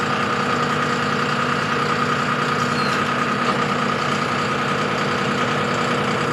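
A tractor engine runs loud and close with a steady, heavy throb that holds about even throughout, and no voices are heard.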